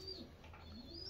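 A racing pigeon entered for a Florida pigeon derby gives a soft, brief coo, very faint and distant under a quiet background hum.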